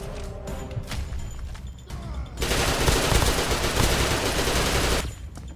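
Gunfire in the video game Blockspin: scattered single shots at first, then a loud sustained burst of rapid automatic fire lasting a few seconds before cutting off.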